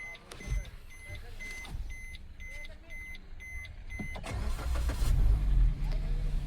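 A Maruti Baleno is push-button started with the clutch pressed: a few soft electronic beeps and clicks come first, then the engine cranks and catches into a steady idle rumble, close and moderately loud.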